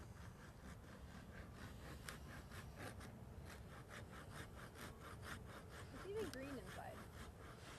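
A hand saw cutting through a tree limb during pruning, with steady back-and-forth rasping strokes at a moderate pace; the sawing is fairly faint and distant, with a brief voice murmuring partway through.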